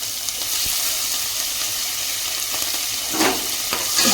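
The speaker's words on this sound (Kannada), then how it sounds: "ಇದು ಸ್ವಲ್ಪ ಫ್ರೈ ಆಗಲಿ." Curry leaves and five or six green chillies fry in a pan with a constant hissing sizzle, and a few louder crackles and stirring sounds near the end.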